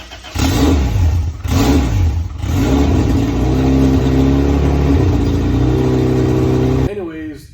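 A freshly rebuilt four-cylinder engine catches on its first start and settles into a loud, steady, solid-sounding idle with brief revs, running close by for several seconds before it cuts off near the end.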